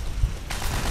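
Machine gun fire in the video game Call of Duty: World at War, a sudden dense burst that cuts in halfway through a brief moment and keeps rattling to the end.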